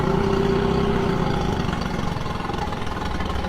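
Outboard boat engine started and running while fed by a garden hose, a steady close idle with a constant low droning hum throughout, no talk.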